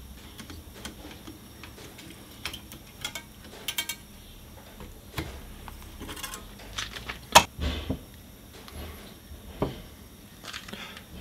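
A CV joint boot clamp being tightened by hand, giving faint, sparse ratcheting clicks and small mechanical ticks at close range.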